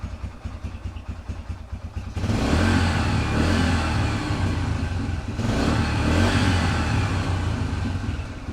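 A Yamaha TTR125 dirt bike engine idles close by with a steady, rough, throbbing rumble that grows louder and fuller after a couple of seconds.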